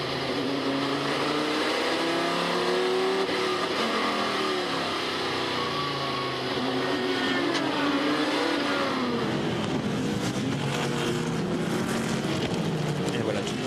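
The engine of a Corvette race car roars from onboard during an American Le Mans Series race at Oak Tree Grand Prix, loud and rising and falling through gear changes, with commentators talking over it.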